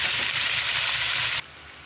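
Tomatoes and green chilies sizzle in a pan with potatoes, garlic and ginger, a steady close frying hiss that drops abruptly to a quieter sizzle near the end.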